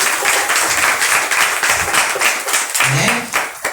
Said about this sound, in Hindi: ताली बजा के प्रभु नाम को महिमा करें।